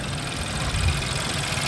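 A Ford Fiesta engine running steadily at idle, a continuous mid-to-low drone with a slight rhythmic pulse, close and fairly loud, with no talk over it.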